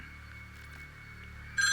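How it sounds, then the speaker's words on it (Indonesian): A telephone starts ringing near the end with a bright electronic trill, rising loudly out of a quiet, steady background hum, in a tense mystery story setting with no voices. "telepon berbunyi kembali."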